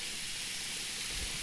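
Pork chops sizzle on a grill, a faint, even hiss of frying fat that runs steadily for a moment with no voices.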